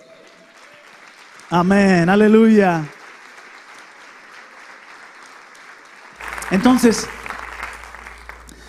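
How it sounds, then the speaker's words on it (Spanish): A congregation at a Spanish-language Christian sermon applauds with soft, scattered clapping, heard between and beneath a man's loud spoken phrases. "Eso merece un aplauso."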